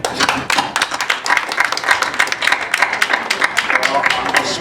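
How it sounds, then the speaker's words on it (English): An audience at a post-fight boxing press conference claps after Andy Ruiz Jr's shock win over Anthony Joshua, a dense burst of sharp individual claps close by, with voices talking over it. "we got to give Mr. Eddie Hearn and Matchroom a round of applause for tonight"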